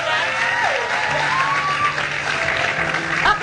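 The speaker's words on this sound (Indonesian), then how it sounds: "tepuk tangan dulu dong untuk Jessica Iskandar" A studio audience on an Indonesian TV talk show applauds for Jessica Iskandar, sustained loud clapping from a crowd with faint tonal sounds mixed in.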